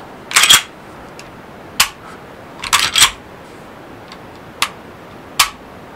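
An HK45 pistol's trigger is worked repeatedly, producing sharp metallic clicks, some in quick pairs and some single, spaced about a second apart and heard close up in a quiet room.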